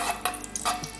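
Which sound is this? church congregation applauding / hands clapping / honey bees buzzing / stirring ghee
stirring ghee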